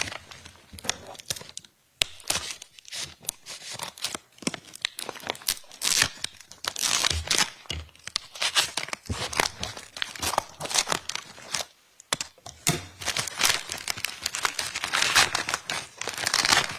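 Scissors snipping and crinkling through a plastic evidence bag in a courtroom, a continuous busy run of close rustles, crunches and tearing sounds with brief pauses.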